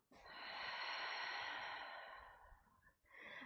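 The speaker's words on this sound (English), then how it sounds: "One more deep breath out." A single long, deep exhalation through the nose during a yoga breathing exercise, soft and close, fading out near the end before a fresh breath begins.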